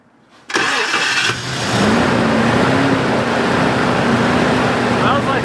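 Toyota engine cranking and catching after a brief pause, then running roughly and unevenly as it struggles on stale gas, loud and close with a voice briefly over it.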